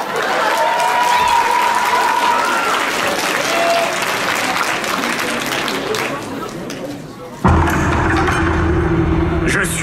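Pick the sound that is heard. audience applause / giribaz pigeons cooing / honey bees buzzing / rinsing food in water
audience applause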